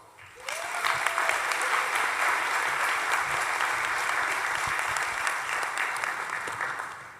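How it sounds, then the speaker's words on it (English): Graduates at a master's graduation ceremony burst into loud, sustained applause that starts abruptly and holds steady, with a few scattered cheers mixed in. "Give yourselves rounds of applause."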